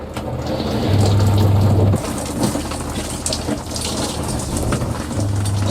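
Inside a van, a hot shower sprays in a dense, continuous hiss of running water, loud and close, with a low steady hum beneath it.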